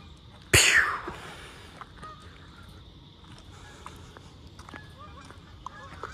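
Geese honk in scattered calls at a distance during a sunset walk after a brief loud burst near the start, with faint outdoor background noise.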